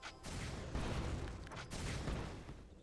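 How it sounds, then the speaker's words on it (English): Corki's Missile Barrage shots in the League of Legends video game, heard as a dense run of overlapping explosive bursts and booms in quick succession over roughly three seconds. "I chase him down and get into position to land two more shots from Missile Barrage."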